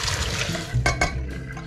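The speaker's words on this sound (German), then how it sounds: "Deswegen gieße ich das Ganze jetzt einfach hier drüben ab." Noodle cooking water for Samyang Buldak Quattro Cheese fire noodles being poured off into a sink, a short splashing gush with two brief surges over a low running-water background, close and moderately loud.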